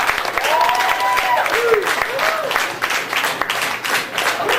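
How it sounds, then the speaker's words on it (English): Audience applause at a poetry reading breaks out between poems, a steady wash of clapping lasting several seconds with a few whistles or voices rising over it. "I expect you all to applaud in an orderly fashion between the poems."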